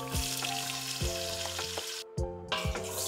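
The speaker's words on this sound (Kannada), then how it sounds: "ಎಣ್ಣೆ ಕಾದಿದೆ, ಈರುಳ್ಳಿ ಹಾಕ್ತಾ ಇದ್ದೀನಿ" Onions dropped into hot oil for Bengali biryani: a dense, steady sizzle with a sustained tonal hum underneath and a few soft stirring knocks, close and quiet, broken by one brief dip, no voices.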